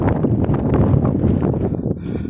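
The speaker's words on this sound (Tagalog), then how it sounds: "Ang lakas ng hangin." Strong wind buffeting a microphone on a hillside hike through grassy terrain, a loud, continuous rough roar with gusty swells throughout and no talking.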